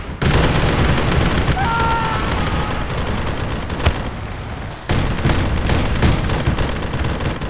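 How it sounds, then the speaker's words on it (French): Heavy, nonstop gunfire in Arma 3 with a Warhammer 40k Ork setting, a loud continuous barrage of overlapping shots and bursts with a brief dip midway; a voice is partly audible beneath it. "Ça tire partout."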